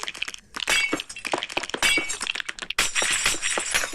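Glass shatters in a video game while an underground house is being built, with several sharp breaking and clinking bursts following one another closely over about four seconds.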